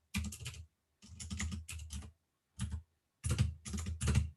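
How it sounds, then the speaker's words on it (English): Bursts of rapid clicking from typing on a computer keyboard during a live session, coming in several short runs separated by brief pauses, close and fairly loud with no talking. "I'm typing in the chat as I'm talking"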